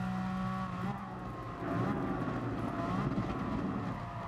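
Race car engine in the GT Sport video game accelerating hard with near-instant gear changes, a steady loud drone with a rising, shifting tone throughout.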